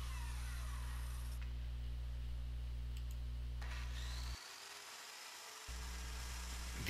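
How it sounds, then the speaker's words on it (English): A reciprocating saw cuts through a wooden stair stringer, its motor a steady, fairly quiet buzzing drone that pauses briefly before resuming near the end, with no talking. "finish it off with a jigsaw, hand saw, or in this case a sawzall"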